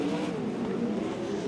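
Sprint cars race at Archerfield Speedway, their engines merging into a steady, moderately loud droning roar over a short stretch with no voices.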